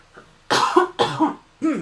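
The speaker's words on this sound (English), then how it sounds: "Excuse me, I'm going to have a little cough here." Three close, harsh coughs in a row, the first two quickly together and the third after a short pause, each with a rough throaty rasp.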